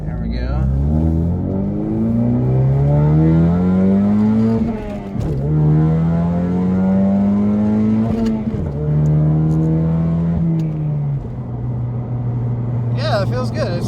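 Ford Mustang EcoBoost engine heard from inside the car, pulling hard through the gears with rising revs, brief dips at each shift and then climbing again, loud and close throughout.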